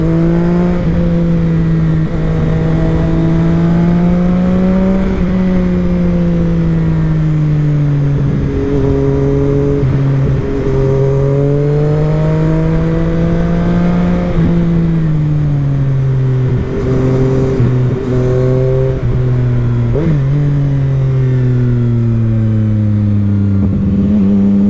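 A CFMoto 675 SR-R motorcycle ridden on a track, its engine droning loud and close with a smooth tonal whine that rises and falls as the rider rolls on and off the throttle, sustained without a break.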